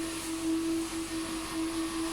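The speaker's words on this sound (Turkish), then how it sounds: "Daha sonradan süpürge makinasıyla içine giriyor." A steady vacuum cleaner drone with a strong constant whine, loud and close, running continuously without pause while cleaning a car interior.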